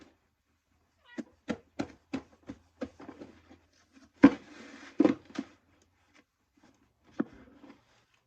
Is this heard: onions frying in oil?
no